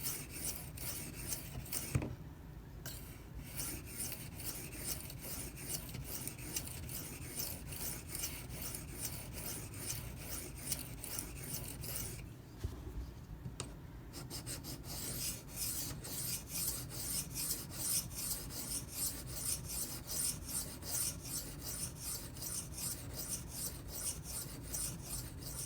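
A Benchmade 9400 folding knife is drawn along an 800 grit Edge Pro sharpening stone, producing a steady rhythmic rasping of repeated close strokes, with two brief pauses between passes and no speech.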